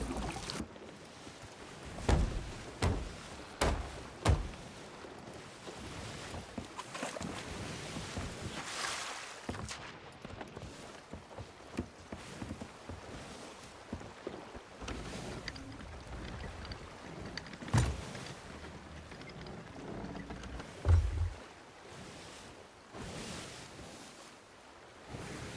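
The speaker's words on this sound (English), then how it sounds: "No, it's just the sound that the boat makes." A sailing ship moving through open sea in the game Sea of Thieves, with a steady wash of waves and water rushing along the hull, broken by occasional louder sloshes and thumps as the vessel rolls.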